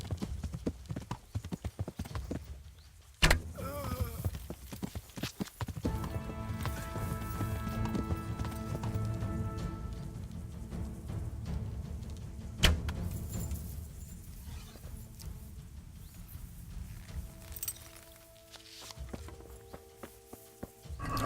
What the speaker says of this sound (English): Me riding the horse around in circles?